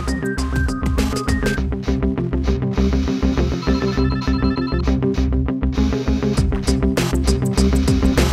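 A telephone ringtone plays loud and continuous in a café scene from a TV crime drama, with a steady repeating melodic ring pattern that carries on throughout and no voices over it.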